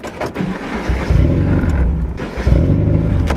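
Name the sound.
car driving off on first test drive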